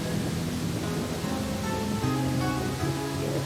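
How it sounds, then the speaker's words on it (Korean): A waterfall in Chile roars in a constant, broad rush of falling water mixed with wind, steady and loud throughout with faint tonal hums underneath. "바람 소리와 폭포 소리가 어우러져"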